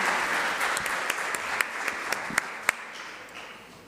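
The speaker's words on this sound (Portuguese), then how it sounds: "Uma salva de palmas a todos os participantes." Audience applause for seminar participants, a steady wash of many hands clapping in a hall with a few sharper individual claps standing out, gradually fading toward the end.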